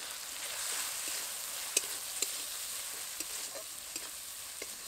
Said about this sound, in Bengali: মশলার কাঁচা গন্ধ চলে যাওয়া পর্যন্ত কিছুক্ষণ নেড়ে চেড়ে নেব।